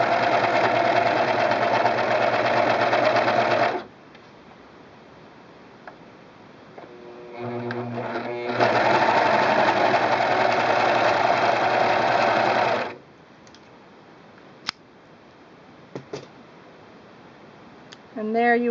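A Singer Pro Finish serger sews a flatlock stitch through fabric in two loud, steady bursts of fast mechanical whirring, with a short pause of small clicks between them and a few faint ticks afterward.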